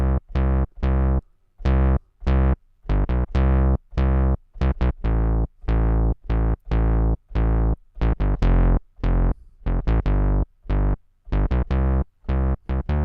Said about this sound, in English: So Synth Bass, there are very many variations of this